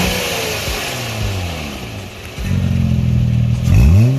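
Acura TL with an electric exhaust cutout revving repeatedly, a deep engine growl climbing and falling in pitch through several blips, loudest and sharpest in the final rev, with no talking.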